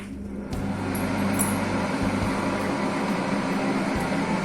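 A Koryo 2.6L digital air fryer switches on and runs, its fan settling into a steady, even whir with a low hum underneath that carries unchanged to the end.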